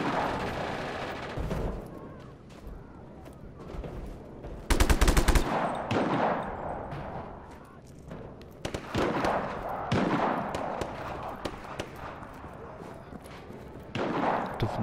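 Gunfire in the video game Just Cause 3: scattered bursts of shots and a loud blast near the middle, over a busy, noisy backdrop of ongoing action.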